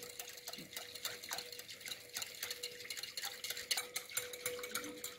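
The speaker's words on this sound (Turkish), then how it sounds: "Çırparak mayamızın erimesini sağlayalım." A whisk stirs dry yeast into two glasses of water, making faint, quick, irregular clinks and swishes in an otherwise quiet kitchen.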